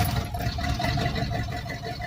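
Small engine running at light throttle, a steady close mechanical whir and hum with no revving, alone without talk.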